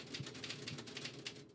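Keys striking on a manual typewriter in a steady run of quick clacks, roughly four or five per second, fairly quiet and close, with no talking over them.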